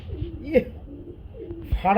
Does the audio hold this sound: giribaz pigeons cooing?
yes